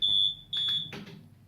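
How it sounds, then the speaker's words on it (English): A physical buzzer on a Bell Fruit fruit machine sounds in two short, loud, shrill electronic blasts, followed by a brief mechanical clatter. "The other buzzer, that's what I was trying to achieve."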